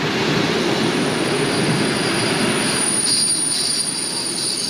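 A Montenegrin ZPCG local train pulling into a station, its wheels squealing loudly and steadily against the rails in a sustained high screech, close and alone without talk.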